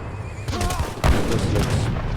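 Cannon fire in a battle in Age of Empires III comes as repeated booming blasts over a dense wash of battle noise, with one heavy thud standing out midway and other game effects and faint voices mixed in.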